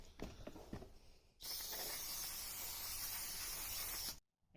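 A steady, close hiss of spray cleaner is blasted onto a dirty flywheel from a Suzuki LTZ400 ATV for about three seconds, after some quieter handling noise, then cuts off sharply.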